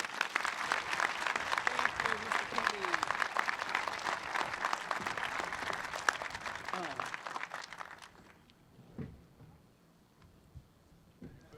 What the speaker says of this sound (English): Let's hear a great round of applause for our extraordinary leader, Assemblywoman Crystal Peoples-Stokes